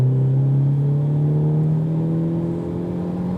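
A 2023 Hyundai Elantra N being driven on a race track, its engine giving a steady, close drone that climbs slowly in pitch, with no voices.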